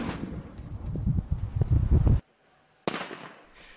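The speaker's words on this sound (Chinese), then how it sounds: "现在我们利用激光照射，枪榴弹具体点位，像做手术一样" A rifle grenade being destroyed by a laser demolition device: a sustained loud crackling burn cuts off abruptly into near silence, then a sharp second burst flares up and fades.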